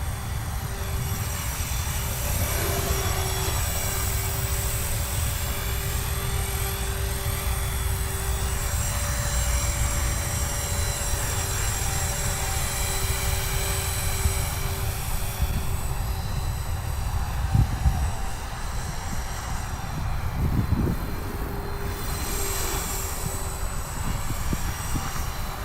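A Blade 360 CFX RC helicopter hovers on its re-maiden flight after an earlier failed one, its rotor and motor producing a loud, constant whine and whir that holds steady throughout with slight pitch shifts.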